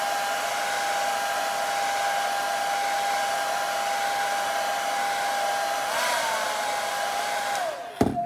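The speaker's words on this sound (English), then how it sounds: "hairdryer on the low setting, and I'm just going to slowly and evenly heat up this frame" Hair dryer on its low setting warming a plastic glasses frame, a steady close whir with a constant motor whine that drops in pitch near the end as it shuts off.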